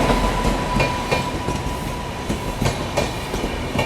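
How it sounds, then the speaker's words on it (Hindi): A Kanpur Central to Madurai Junction special passenger train passes at speed, its wheels beating a steady, rapid clickety-clack over rail joints, loud and close throughout with a faint tonal whine. "ये है Kanpur central to Madurai junction. ये ट्रेन ओवरटेक कर रही है।"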